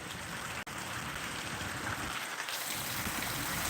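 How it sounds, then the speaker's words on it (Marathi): Heavy rain pours steadily in Kinwat, Nanded district, a dense continuous hiss close by with a brief dropout early on and no voices. "किनवट नांदेड जिल्हा या ठिकाणी आजचा हा पाऊस पडत आहे"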